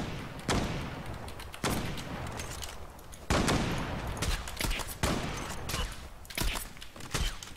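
Bursts of gunfire from the video game Zula crack out in repeated heavy volleys, several loud shots and rapid fusillades spaced across the stretch, close and dense with no talking.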